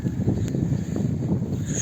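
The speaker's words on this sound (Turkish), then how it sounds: "Baya baya bir rüzgar çıktı." Strong outdoor wind buffets steadily and loudly, a continuous low rumbling rush with no voices.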